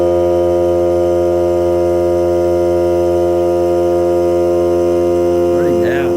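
A Hart cordless air compressor runs during break-in and testing, giving a loud, steady motor hum with strong tonal drone throughout, and a brief voice is heard near the end.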